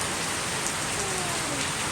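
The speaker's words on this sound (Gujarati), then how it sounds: "વરસાદ તો જુઓ ચાલુ છે" Steady rain pours down, a dense even hiss of drops on surfaces throughout with no voices.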